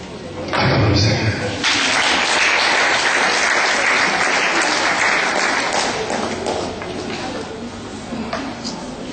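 Church congregation at a sermon applauding and cheering the Lord, a loud sustained roar of clapping and voices that swells quickly and carries on before easing slightly toward the end.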